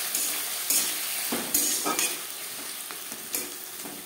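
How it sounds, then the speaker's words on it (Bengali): Sliced tomatoes with ginger and green chilli paste are stirred in a frying pan, a soft sizzle broken by repeated scraping strokes of a spoon against the pan, near and without speech. "কাঁচা গন্ধ যাওয়া পর্যন্ত নাড়াচাড়া করে নেব।"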